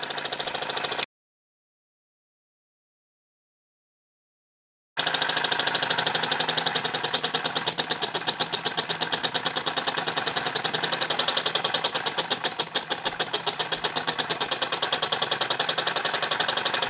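A hit and miss engine runs against a shop-made prony brake, producing a rapid, steady mechanical chugging beat after a few seconds of silence, loud and close.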